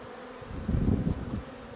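Honeybees buzzing around spring beehives, a steady low insect drone that swells louder midway as bees pass close, with no talking.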